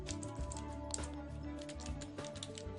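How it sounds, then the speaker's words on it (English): Keystrokes on a computer keyboard tapping in short irregular bursts over a steady background hum, with a faint tonal bed of music underneath and no clear talk. "I'm going to type in orcas"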